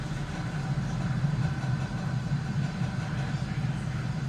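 A SpaceX Falcon 9 rocket's engines roar during the Ax-1 crewed Dragon launch, a steady, dense rumble that holds level without a break.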